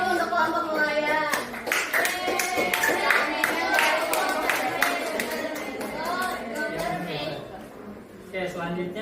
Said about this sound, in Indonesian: Kita beri aplaus dulu untuk kelompok nelayan.